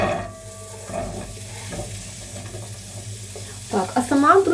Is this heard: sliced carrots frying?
yes